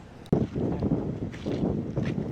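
Strong wind buffets the microphone outdoors on a hilly trip around Araku, a steady rough roar that rises in gusts after a sharp knock near the start.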